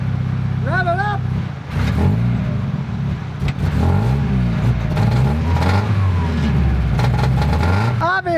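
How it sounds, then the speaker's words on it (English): A Mazda Miata engine that runs rough with a misfire, revved repeatedly in uneven rising and falling surges, loud and close, while a person talks over parts of it. "Here we have a Mazda Miata, and as you can hear, it's running like crap."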